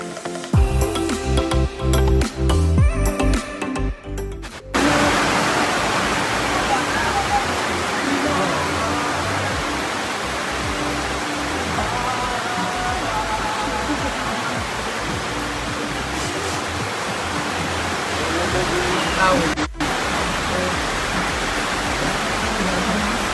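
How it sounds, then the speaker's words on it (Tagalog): Steady rain pouring in Siargao, a dense continuous hiss that follows a few seconds of busier mixed sound at the start, loud and even throughout. "Enjoy naman ang tag-ulan sa Siargao ng dalawang magkapatid na Kowa at Lilo"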